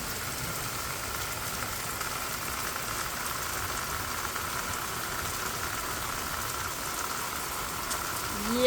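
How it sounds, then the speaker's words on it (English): Heavy summer rain falls steadily over a garden and hayfield, making a constant dense hiss of drops at moderate volume that never lets up, with no voices. "And it's not just a light rain."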